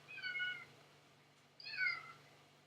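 Two electronic cat meows from a Ghost Kitty sound device, each about half a second long and separated by a pause, fairly quiet over a faint steady hum.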